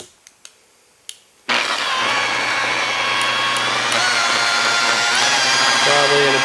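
A buffing machine runs at low speed, about 900, polishing car paint during color sanding and buffing; a few soft knocks come first, then a steady close whirring drone holds to the end with slight pitch changes.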